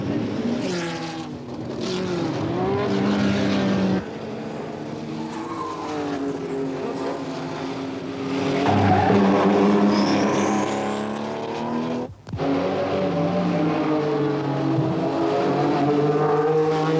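Race cars at the 1976 Le Mans 24 Hours: continuous loud engine roar with rising and falling revs as cars pass, a brief dropout midway, then more engines droning close by.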